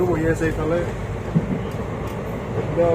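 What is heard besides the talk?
train running, heard from inside a carriage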